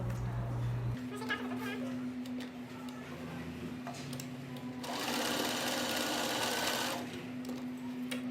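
A sewing machine stitches pajama shorts with a steady mechanical hum and needle tick, close by and continuous, with a louder, faster run of stitching partway through.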